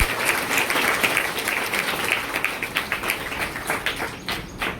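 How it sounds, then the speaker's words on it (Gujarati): Audience applause at a Sunday school yoga event run by a youth group, a loud, sustained outdoor crowd clapping that gradually fades, with faint bird calls in the background. "એમના માટે એક વખત જોરદાર તાળીથી છે."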